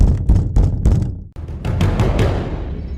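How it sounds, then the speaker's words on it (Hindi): Heavy, rapid pounding on a door, used as a horror-story effect, sounds as a series of loud close thuds, then a brief pause and a denser rumble of continued banging. "तभी कोई जोर जोर से दरवाजा पीटने लगा।"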